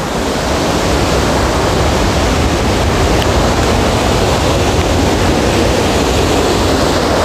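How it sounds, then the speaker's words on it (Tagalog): Floodwater rushes loudly through Wawa Dam after Typhoon Ulysses, a constant, dense roar of churning water with some wind buffeting the microphone and no voices. "So naririnig niyo yung lagargasan ng tubig."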